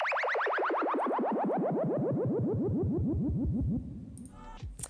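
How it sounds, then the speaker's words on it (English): A synthesized down riser made in Serum repeats in rapid pulses, each sweeping downward while the overall pitch steadily falls, ending with a brief, quieter flutter. "This is to make it a down riser. The pitch is decreasing over time."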